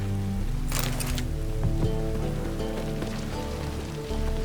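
Steady rain in The Witcher 3 hisses continuously across the whole stretch, with scattered game sounds and a brief burst of splashing noise near the start, no talking.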